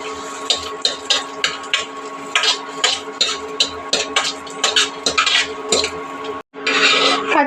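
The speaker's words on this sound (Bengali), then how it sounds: "এবার ঘি দিয়ে বাটার দিয়ে কাজু বাদাম আর কিশমিশগুলি হালকা করে ভেজে নেব।" Cashews and raisins cook in ghee and butter in a kadai, with a spoon scraping and clinking against the metal in a rapid, repeated rhythm over a faint sizzle.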